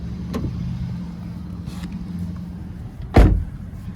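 Someone gets into the driver's seat of a 2009 Toyota Prius 1.5 hybrid, with soft shuffling and interior rustles, then a single solid thump as the door shuts, heard from inside the car.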